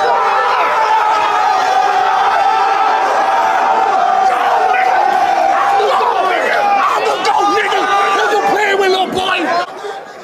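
A packed rap battle crowd roars, cheers and claps loudly and continuously, with whoops and shouting voices mixed into the dense, sustained noise.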